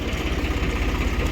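A Swaraj 855 tractor in poor, run-down condition idles close by, its engine thudding in a steady, quick low-pitched rhythm with no talking.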